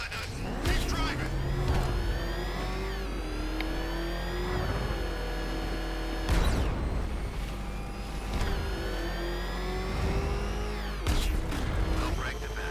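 A vehicle in Batman: Arkham Knight roars along under steady engine drone, with revving pitch sweeps and sharp crashing impacts, while voices speak over it.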